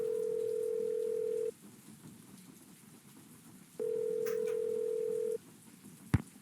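Phone call in the Nancy Drew: Legend of the Crystal Skull video game: two steady ringback tones separated by a pause, followed by a short click as the line connects.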